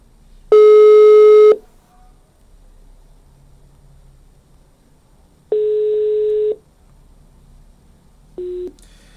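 A telephone busy signal sounds as steady electronic tones: a loud first beep, a pause, then a second long tone and a short third one over a faint line hiss.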